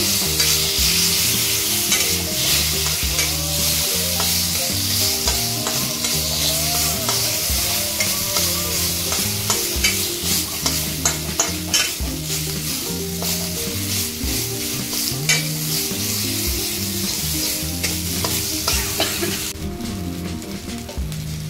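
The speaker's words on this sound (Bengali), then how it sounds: "প্রায় 1 চামচ মতো আদা জিরে বাটা দিয়ে দিচ্ছি। কষিয়ে নেব।" Ginger-cumin paste being sautéed in a pan for horse gram dal, with a steady loud sizzle and repeated scraping stir strokes running throughout, no voices.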